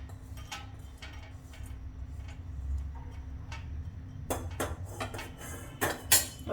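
Fried spicy potatoes served onto a plate for a Sindhi breakfast, with scattered clinks of utensils against dishes, the sharpest taps near the end over a low steady hum.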